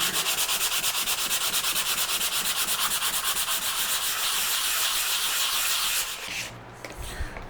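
Sandpaper worked by hand over a scrap block of wood, a fast regular back-and-forth scratching rhythm, loud and close, that stops near the end.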